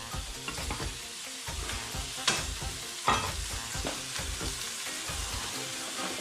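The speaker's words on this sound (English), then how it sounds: "get it back into the pan, start to sweat down the mushrooms" Coarsely chopped mushrooms sweat in a hot pan, a steady sizzle broken by frequent stirring scrapes and a couple of sharper clinks, close and without talk.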